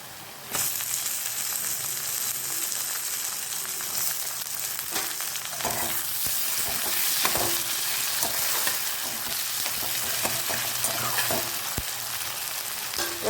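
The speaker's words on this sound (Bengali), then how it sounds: "পেঁয়াজ কুচিটা অল্প ভাজা ভাজা হয়েছে এবারে আমি এর ভেতরে টমেটো কুচিও দিয়ে দেবো" Chopped tomato hits frying onions in a pan with a sudden steady sizzle, then a continuous close crackle of oil with occasional scraping stirs throughout.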